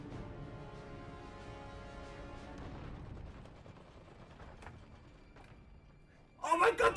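A huge steampunk mech in the Dawn of War 4 real-time strategy game walks through a building and wrecks it, with mechanical rumbling under a person's talk before a sudden loud crashing burst near the end.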